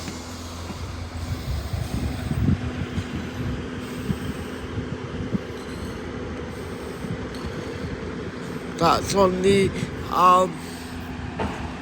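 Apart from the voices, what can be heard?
Great Western Railway class 158 train passing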